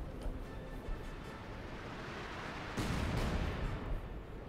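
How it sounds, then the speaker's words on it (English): Light artillery barrage in Company of Heroes 2, a dense rumbling wash of distant explosions that swells sharply about two-thirds of the way through, with heavier impacts and crackle continuing to the end. "Light artillery barrage being called down, likely on that 42."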